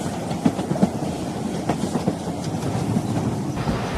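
A train rolls along in a story soundscape, its wheels beating a rhythmic clickety-clack over a low rumble, with steady carriage noise filling the space.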